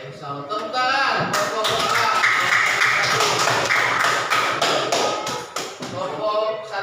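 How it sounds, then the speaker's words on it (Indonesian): A group of students in a classroom claps hands in a run of quick, close taps, with a voice speaking over part of the clapping. "Tepuk tangan."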